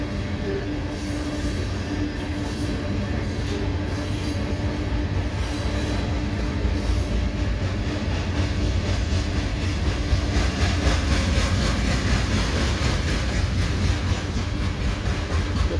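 A long northbound CSX freight train of covered hoppers rumbles steadily past close by, wheels clattering and rolling over the rails with a constant heavy roar throughout.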